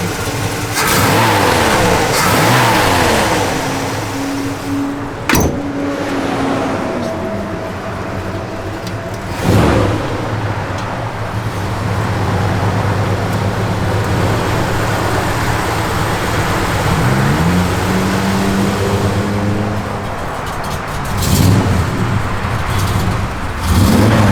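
A 1971 Chevrolet Malibu convertible with its matching-numbers 350 V8 running close by, idling with a deep rumble and rising in several sharp revs, loud and steady for the whole stretch with no talk.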